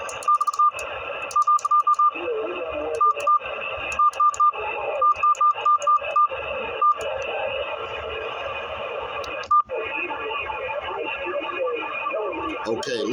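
Receive audio from an Anytone AT6666 radio with noise reduction switched off: a steady hiss carrying tonal beeps and chirps, with a brief dropout before the noisy signal resumes.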